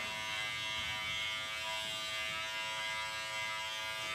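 Electric hair clippers drone at close range during a men's fade haircut, a bright, steady mechanical buzz with a tonal whine that runs unbroken and alone throughout.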